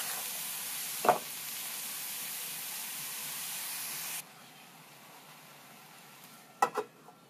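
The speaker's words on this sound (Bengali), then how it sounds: "সবগুলো সরিষা শাক দিয়ে এবার সব ভালো মতো একসাথে নাড়িয়ে নিতে হবে" Chopped mustard greens sizzle and hiss as they fry in a pan, a steady broadband crackle that drops quieter midway, with a couple of brief scraping stirs near the start and end.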